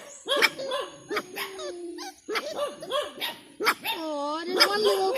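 A little puppy on a morning nature walk lets out a string of high yips and whiny, rising barks in bursts, close and fairly loud, with short pauses between.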